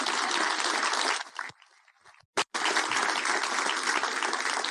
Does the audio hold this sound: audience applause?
yes